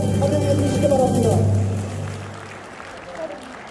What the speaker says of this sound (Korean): 엄청 박수로 환영해 주시기 바랍니다